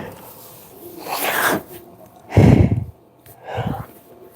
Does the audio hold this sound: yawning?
yes